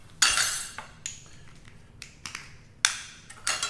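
A metal spoon is tapped and scraped clean against a container while seasoning wild boar for a Pit Boss smoker, giving a quick series of sharp clinks and clicks, some louder and some light, with no talk.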